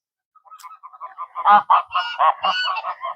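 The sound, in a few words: flock of geese honking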